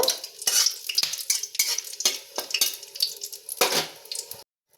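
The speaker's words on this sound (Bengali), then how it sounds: "এবার আমি সব ফোড়নটাকে ভালো করে ভেজে নেব" Whole cloves and a large cardamom fry in hot oil in a pan, a steady loud sizzle broken by repeated scrapes and clinks of a spoon stirring against the metal.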